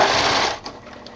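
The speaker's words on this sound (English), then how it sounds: "I'm going to do this using the sewing machine foot as my guide." Domestic sewing machine stitching binding onto the armholes of a Y-back racer tank top, a steady close whirring run that eases off midway into lighter, quieter mechanical ticking.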